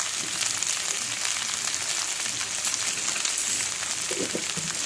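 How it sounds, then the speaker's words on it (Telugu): Okra frying in a pan over a low flame, a steady crackling sizzle at close range with occasional stirring clatter, no voices. "మంచిగా లో ఫ్లేమ్లో పెట్టేసి మంచిగా ఫ్రై చేద్దాం."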